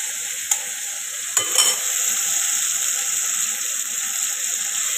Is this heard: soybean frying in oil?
yes